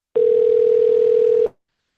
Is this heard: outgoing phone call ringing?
yes